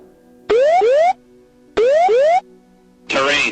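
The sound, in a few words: aircraft ground proximity warning alarm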